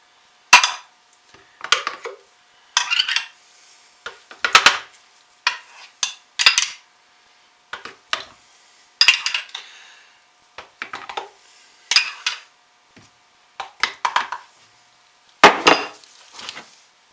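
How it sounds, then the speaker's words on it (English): A spoon scoops thick chocolate coffee soap batter into a vertical mold in a series of separate clacks, scrapes and soft plops, each a brief burst followed by short quiet gaps. "I'll have to spoon this in."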